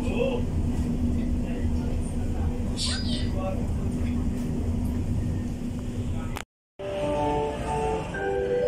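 A passenger train running through the Baclaran area makes a steady low rumble and rattle heard from on board, with a brief cut near the end, and people talk over it.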